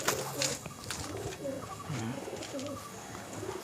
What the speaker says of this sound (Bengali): এই একটা পায়রা